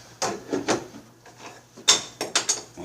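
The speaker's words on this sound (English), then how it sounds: "You got your drawer here." A wooden drawer in a vintage sewing machine cabinet, model 117.580, slides and knocks, with a few scraping pulls followed by several sharp bumps and clicks close up.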